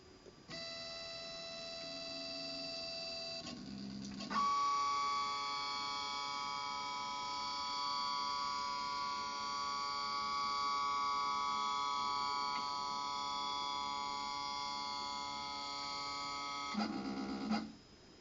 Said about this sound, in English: I'm going to issue a homing cycle.